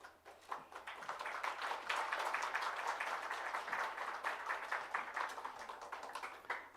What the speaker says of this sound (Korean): 권 목사님 나와서 강의 주실 때 우리 힘차게 박수로 투표하겠습니다.